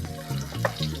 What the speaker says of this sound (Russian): Они просто наливают пол бутылки масла, жарят рыбу.